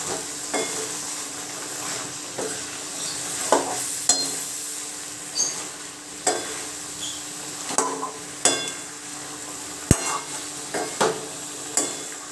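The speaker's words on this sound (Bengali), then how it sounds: "এর মধ্যে দিয়ে দিলাম বেগুন দিয়ে আমি 2 মিনিট আবার কষিয়ে নেব।" Eggplant fries and is stirred into a spiced dried-fish curry with potatoes, a steady oily sizzle broken by repeated scraping and knocking strokes of a utensil against the pan at irregular intervals.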